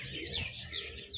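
Small birds chirp in a village, with thin, high tweets and calls repeating across the short stretch over a soft background and no talk; pigeons are present nearby.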